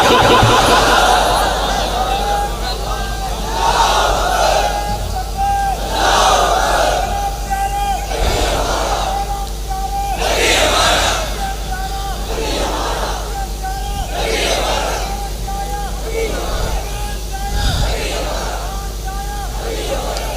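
A large crowd at a Milad gathering for Eid Milad-un-Nabi chants religious slogans in loud, rhythmic call-and-response swells that rise and fall roughly every two seconds under a steady low hum.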